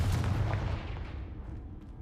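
A Confringo blasting curse goes off in a Harry Potter video game, a single heavy boom at the start that rumbles and decays over about two seconds.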